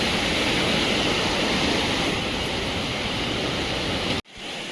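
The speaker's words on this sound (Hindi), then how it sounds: "शाम को पानी छोड़ दिया डैम से दोस्तों" Dam floodwater released after monsoon rain in the hills roars in a loud, steady broadband rush, close and continuous, then cuts out abruptly near the end.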